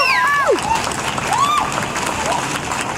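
An audience at an outdoor National Indigenous Peoples Day concert in Cabot Square, Montréal, claps and cheers for the singers. Dense applause runs throughout, with a few rising and falling whoops and whistles over it.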